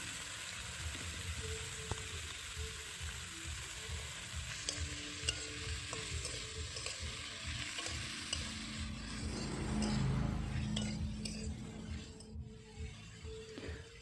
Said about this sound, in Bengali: পেঁয়াজ আর কাঁচা লঙ্কা একটু ভাজা ভাজা হয়ে গেছে, দিয়ে দিলাম কুচিয়ে রাখা গাজর এবং আলু।